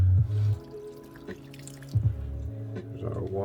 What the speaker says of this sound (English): So we're gonna put water in.